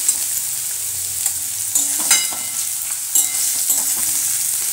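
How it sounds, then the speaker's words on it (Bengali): Onion fries with a spoonful of turmeric in a pan for a homemade village-style fig curry, giving a continuous bright sizzle with a few utensil scrapes and knocks, close and alone. "আমি এক চামচ হলুদ দিয়ে পেঁয়াজটাকে ভালো করে ভেজে নেব।"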